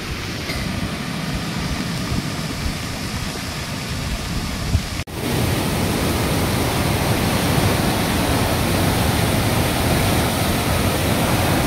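The flooded Ghod river rushes loudly and continuously, a dense broadband roar of churning water close by, with a brief knock midway and no talking.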